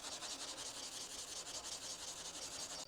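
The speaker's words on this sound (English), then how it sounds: "We'll jump back to our block, and we're going to use 180 grit." Close, continuous rhythmic rasp of a sanding block with 180 grit sandpaper working over car body filler, fast even strokes with no talking.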